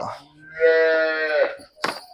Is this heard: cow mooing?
yes